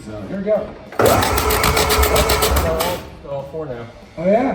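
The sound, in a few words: starter cranking a 1929 Ford Model A engine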